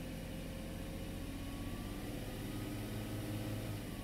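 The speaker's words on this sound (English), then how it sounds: "Then when we increase engine RPMs" A BMW E46 engine undergoing a VANOS test runs with a steady, even mechanical drone at constant loudness and no clear rise in pitch. The setting is cold and no one speaks.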